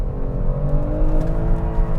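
Kia Stinger accelerating hard in second gear with traction control off, a loud, steady engine roar under full throttle heard from inside the car, with no talking.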